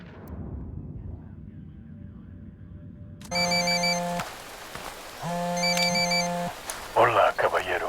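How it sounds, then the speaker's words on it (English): A telephone in the Ghost Recon Wildlands video game rings twice in long electronic bursts with a pause between them, over rain and low game ambience, and a voice comes in at the end. "There's the phone. You're gonna answer."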